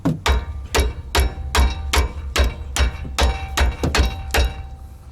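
Nine or so heavy hammer blows land at an even pace on 18 mm bolts while loosening an ABS sensor on a 2017 Chevrolet Silverado, each strike loud, close and sharp, with no talking.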